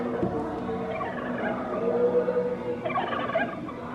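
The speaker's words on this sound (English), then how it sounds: "You have just heard the gobbling of a wild turkey." A wild turkey gobbles in a couple of rattling bursts, moderately loud against a steady low background rumble.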